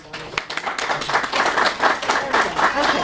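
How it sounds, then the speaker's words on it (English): Conference audience at a university medical event gives a round of applause, moderately loud scattered clapping that builds and holds steady for a few seconds. "big round of applause for coming"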